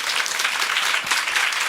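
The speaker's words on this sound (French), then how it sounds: "Par applaudissement." A crowd in a hall breaks into applause, thick sustained clapping from many hands, even and fairly loud from start to finish.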